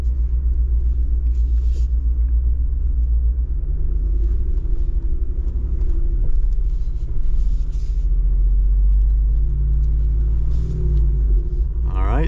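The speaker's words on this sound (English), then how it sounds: "So first gear, crawling down this little section down here." Jeep Wrangler Rubicon 392 crawling slowly over off-road terrain in first gear, a steady deep engine rumble close by with faint wind or rain noise over it and brief speech.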